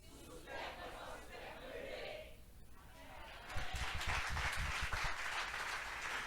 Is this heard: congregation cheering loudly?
yes